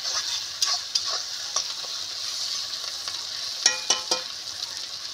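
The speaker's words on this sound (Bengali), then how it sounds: "এটা কষা হয়ে গেলে আমি জল দিয়ে মশলাটাকে আমি ভালো করে কষে নেব।" Masala spice paste for a Bengali bhola fish curry frying and being stirred in a pan: a steady bright sizzle with soft scraping strokes and a few sharper clicks of the spoon against the pan, close by and unaccompanied by talk.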